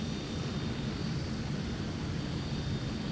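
An IndiaFoxtecho Tornado fighter jet in the Microsoft Flight Simulator video game gives a steady, dense engine roar with a high whine on top, constant and loud throughout.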